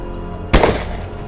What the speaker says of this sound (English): A burst of gunfire followed, but this time, not a single shot.